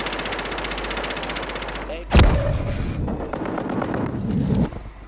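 Gunfire in the Call of Duty Rebirth Island video game: a loud close burst at about two seconds, trailing into a rumbling echo and further scattered shots, over dense game noise and background chatter.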